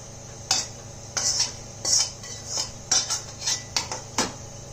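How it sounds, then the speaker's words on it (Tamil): Tempering poured into a peanut and coconut chutney and stirred in a steel vessel: a series of sharp metallic clinks and scrapes from a spoon against the pot, irregular and close, over a faint steady hum. "இதில் நம்ம இந்த தாளிச்சதை கொட்டிடலாம்"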